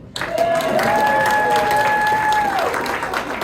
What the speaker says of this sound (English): Round of applause if you like to embarrass those kids